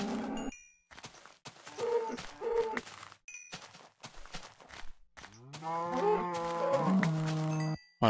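Cows in the Minecraft video game let out several low, drawn-out moos, the loudest and longest near the end, mixed with short chiming pickup dings and scattered game noises, with no one talking.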